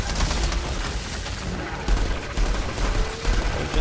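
Sustained gunfire in the co-op shooter Outriders, a dense continuous stream of shots and blasts that stays steady and moderately loud with no talk over it.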